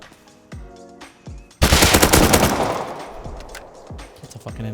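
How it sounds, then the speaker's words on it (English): An M249 machine gun firing in the Rust video game: a few scattered single shots, then a loud sustained burst of rapid automatic fire that trails off into more spaced shots. "That's a fucking M249."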